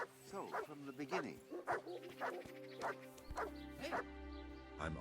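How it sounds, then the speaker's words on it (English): A dog barks in Kingdom Come: Deliverance, several short woofs and yips in a row close by, heard under someone talking over the game. "My dog is back."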